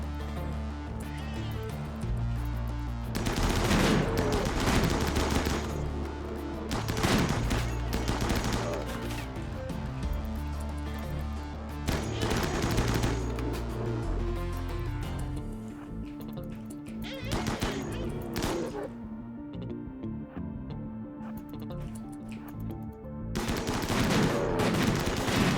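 Gunfire crackles through a RimWorld battle, with bursts of rapid shots and heavier volleys coming in waves over a sustained musical bed, with short lulls between the exchanges.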